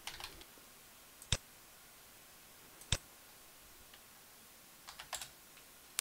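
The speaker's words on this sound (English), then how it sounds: "Let's type something." Sparse keystrokes on a computer keyboard while entering text into a web notepad app, a few isolated sharp clicks scattered over a quiet, faint background with no talk.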